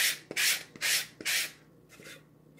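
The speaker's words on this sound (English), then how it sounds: "Now I'm sanding the edges here." Sandpaper rubs along the edges of a painted wooden box frame in four quick rasping strokes, close and steady, then a couple of softer scrapes trail off.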